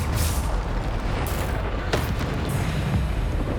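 A Bombarda spell blast in Hogwarts Legacy, a dense rumbling boom over a steady roar of game noise, with a sharper crack partway through and no talking.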